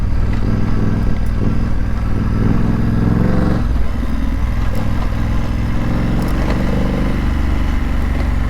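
A BMW F900GS motorcycle engine drones steadily and loudly on a mountain road, with constant wind rush and the note shifting slightly as the rider varies the throttle.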